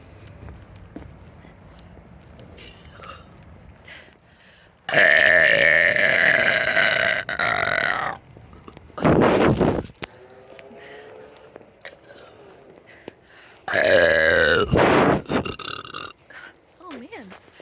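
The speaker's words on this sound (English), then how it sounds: "and burp at it." Loud, drawn-out burps from a person in a public park near an amphitheater, two long bursts and a shorter one, close up, with quieter stretches of footsteps and background sound between them.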